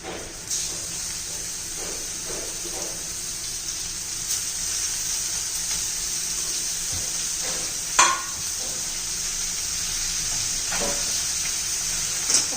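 Red amaranth leaves and onions sizzle in a hot pan, a steady close hiss of frying with occasional soft stirring scrapes and pops throughout.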